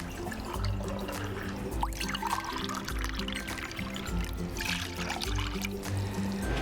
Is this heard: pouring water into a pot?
yes